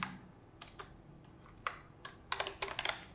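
Short bursts of HTML code being typed on a computer keyboard, scattered clicks and quick clusters of keystrokes, close and crisp against a quiet background.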